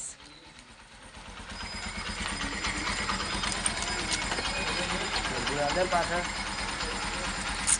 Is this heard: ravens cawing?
no